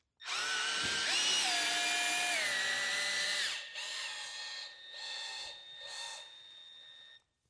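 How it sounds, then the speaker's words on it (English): A power drill winding up the arms of a Suweeka lifter whirs steadily and loudly for several seconds, then slows into a few pulsing, stuttering bursts before stopping. "As that gap gets smaller, I slow the drill down."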